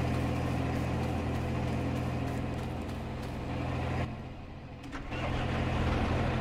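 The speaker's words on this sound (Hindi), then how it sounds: "ट्रैक्टर ले आते हैं वो ऊपर।" An Arjun 605 tractor engine in Farming Simulator 22, running a modded Indian field, drones loudly and continuously up close, briefly easing off before building back to a steady roar.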